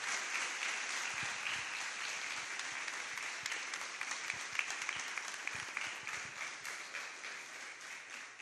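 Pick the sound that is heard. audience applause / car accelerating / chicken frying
audience applause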